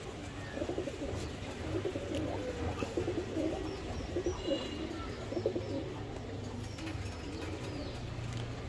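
Giribaz pigeons in a loft coo softly and repeatedly, several birds overlapping in a low, throbbing murmur, with a faint wing flutter now and then and no talking.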